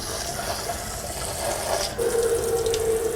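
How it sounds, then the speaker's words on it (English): Hot water runs from a kitchen tap in a steady, close, constant stream, with the flow changing tone partway through as it fills a container. "So what you want to do is you want to turn on your hot water."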